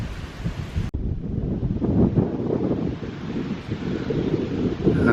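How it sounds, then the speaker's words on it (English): Strong wind buffets the microphone in a steady, roaring rush after a brief cut near the start, with gusts swelling and easing throughout. "because it's so windy, I can't get a focus on it"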